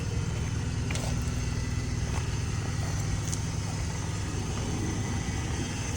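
A towed auction car sits with its engine running, holding a steady, close idle rumble that stays even throughout, with a few faint clicks over it.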